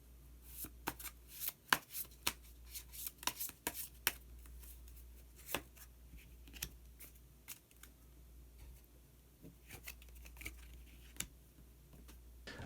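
Tarot cards are shuffled and a hidden card is drawn, giving a quiet stream of crisp flicks and papery snaps in irregular clusters, close and soft, with no talking.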